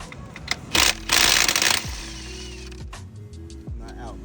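A 17mm socket wrench loosens transmission mount nuts on a Mazdaspeed 3, giving close metallic clicks and ratcheting bursts, with a louder rattling stretch early on and a low hum underneath.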